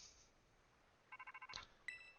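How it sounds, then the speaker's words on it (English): A short electronic phone ring in the Pokemon Scarlet video game: a quick run of quiet pulsed trill tones, then a bright chime, alone and soft. "Our phone's ringing."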